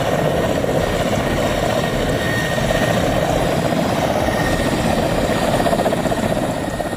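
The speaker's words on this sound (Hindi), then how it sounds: "उनका चीता हेलीकॉप्टर केदारनाथ, जंगल पट्टी और गौरी कुंड के 55 से ज्यादा फेरे लगा चुका है" A Cheetah helicopter flying on a rescue operation around Kedarnath, Jungle Chatti and Gaurikund in Uttarakhand, heard as a continuous steady rotor and engine drone at moderate loudness with no voices.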